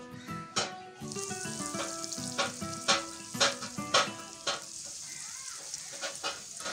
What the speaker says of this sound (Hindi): अब हम इन लेग पीसेस को फ्राई करेंगे।